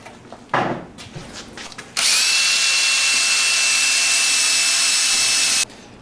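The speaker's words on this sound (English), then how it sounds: "So first step here is to drill a hole right there." After some brief knocking, a power drill whines loudly and steadily for several seconds while boring a hole in a Honda Sabre motorcycle part, then stops abruptly.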